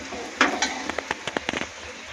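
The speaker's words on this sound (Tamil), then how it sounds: "நல்லா ஃப்ரை ஆகட்டும்." Chicken bhuna masala ingredients frying in a pan, a soft background sizzle broken by a scatter of sharp spitting pops and crackles, close and fairly quiet.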